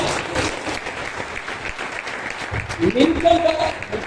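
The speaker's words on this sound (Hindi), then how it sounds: "Give a big clap to the Lord." A church congregation claps in a dense burst of applause, with voices and cheering over it.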